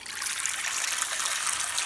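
Water pours steadily into a bowl for produce washing, a continuous close hiss and trickle that stays even throughout with no talking.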